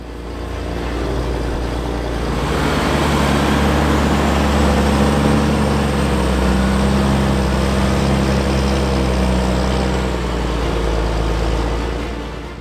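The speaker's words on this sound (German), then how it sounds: "Der markante Sound des 6-Zylinder Caterpillar Motors" A loud, steady six-cylinder Caterpillar diesel tractor engine rumbles continuously with a deep low throb, rising slightly in intensity before settling, with no voices.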